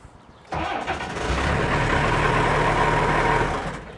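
A 1992 Willard turbo diesel RHIB boat engine cranks and catches at once, then settles into a steady, loud idle with a low rumble throughout.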